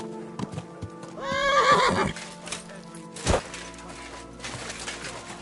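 A mare in the video game Kingdom Come: Deliverance II lets out a loud, wavering whinny, followed by a sharp hoof thud and scattered clopping against faint background ambience.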